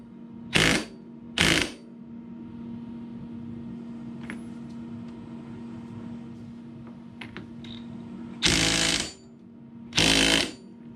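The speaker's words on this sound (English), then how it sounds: "And we'll tighten this up on here." Four short, loud bursts from a power tool tightening the nut on a Yamaha ATV CV axle, two close together near the start and two near the end, with a steady low hum of background noise between them.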